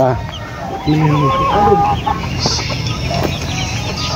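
Roosters and young fighting stags crow and cluck in a yard, several birds calling over one another close by, with a steady background murmur.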